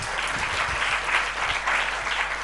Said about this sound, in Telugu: చప్పట్లు కొట్టి దేవుని స్తోత్రం